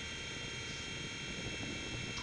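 A Blade mCX2 small RC helicopter carrying a keychain camera whines with a steady, high-pitched motor and rotor buzz, constant and close throughout with no pauses.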